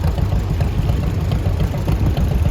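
A 1972 International 1066 tractor rolls past in an outdoor parade of power, its engine giving a loud, continuous low rumble and throb that stays steady throughout with no talk over it.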